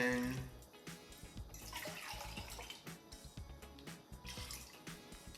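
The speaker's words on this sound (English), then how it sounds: "we're gonna add 2 cups of water. And what I like to do is just add the water into this can to get any other sauce out." Water is poured into a sauce can and then into a cooking pot, giving quiet, uneven splashing and sloshing with gurgles over a few seconds.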